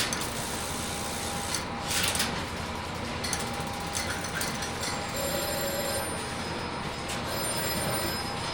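Electromechanical telephone exchange switching gear in a telephone museum, rods on the district frame moving as a number is dialed: a steady dense mechanical chatter and hum with scattered clicks and a faint tone, continuous and fairly close, with no talk.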